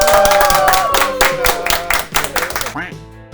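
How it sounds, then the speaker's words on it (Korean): A small group in a hospital social work team's office claps together in quick, uneven bursts for a few seconds, mixed with cheerful voices, before the clapping fades out. "박수 한번!"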